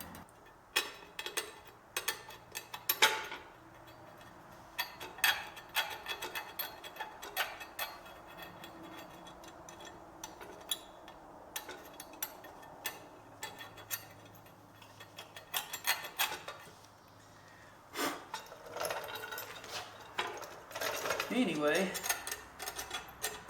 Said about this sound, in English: that's what I'm doing, is scraping this paint out of here.